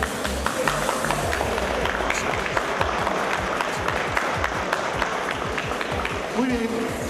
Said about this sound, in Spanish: Y el aplauso de ustedes.